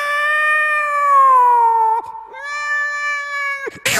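A human voice imitating two tomcats fighting, drawn-out yowling wails with a brief break and then another long howl, loud and close, ending in a sharp burst.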